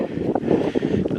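Steady wind buffeting a microphone on a hiking trail through hills in Mousetail Landing State Park, Tennessee, a continuous low rushing roar with gusty swells and no talking.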